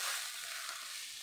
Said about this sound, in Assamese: বিলাহী বিলাহী ঢালি দিলোঁ আৰু ভাল ধৰণে লৰাই থাকিম